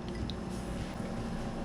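Water pours steadily into a measuring cup for rice, a continuous close splashing trickle with a few drips and no talking.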